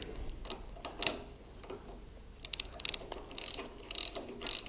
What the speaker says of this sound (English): There's me with my torque wrench and all that.